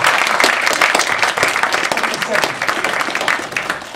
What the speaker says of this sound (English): So give her a round of applause, well done to her.